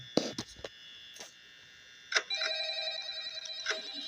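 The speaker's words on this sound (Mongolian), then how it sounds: "утас залгаж байна" A telephone rings while a call is being dialed, with a few sharp ticks at first, then a sustained electronic ringing tone that rises and holds, fairly quiet and close.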